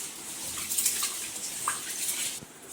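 Rice for prawn biryani is washed in water, with close sloshing and splashing and light watery clatter for a few seconds, and no one speaking.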